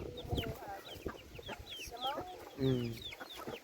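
Chickens cluck and squawk close by in a farmyard where pigs and poultry are raised. Overlapping calls rise and fall, with several louder bursts and faint background noise.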